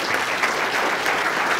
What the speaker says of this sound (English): let's give John let's give him a big round of applause